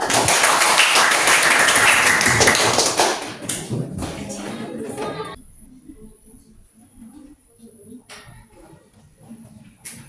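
Classroom of students at a scouting lesson clapping hands together, a loud dense burst that fades after about three seconds into scattered taps and quiet room noise.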